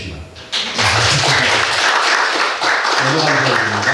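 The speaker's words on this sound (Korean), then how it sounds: "박수 쳐주시기" Church congregation applauding missionaries during a worship service, a loud, continuous burst of clapping starting abruptly and filling the room, with voices talking faintly underneath.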